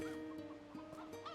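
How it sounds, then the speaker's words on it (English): Chickens clucking in the game NieR Replicant, a few soft, close squawks and clucks over a quiet tonal music background. "Look at all the chickens!"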